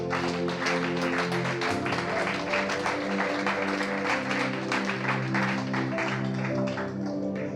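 A church congregation claps in steady rhythm along with sustained music, the repeated claps layered over the tune for the whole stretch.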